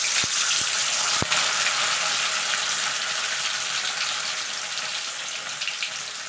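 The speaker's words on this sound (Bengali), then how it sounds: "এবার পনিরটাকে আমি একটু ভেজে নেব।" A whole block of paneer fries in white oil in a wok, giving a continuous close bubbling sizzle that eases slightly over time, with a few sharp clicks near the start.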